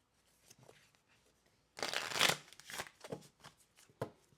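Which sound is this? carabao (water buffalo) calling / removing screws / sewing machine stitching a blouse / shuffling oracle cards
shuffling oracle cards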